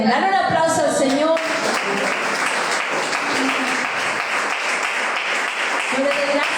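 A church congregation breaks into loud, sustained applause right after a voice finishes speaking, the clapping filling the room for several seconds before a voice returns briefly at the end.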